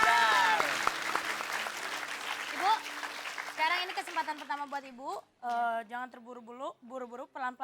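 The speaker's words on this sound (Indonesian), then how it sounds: "Sekali lagi tepuk tangan" Studio audience applause at an Indonesian TV game show, a steady loud clapping crowd that gradually fades while a host keeps talking over it.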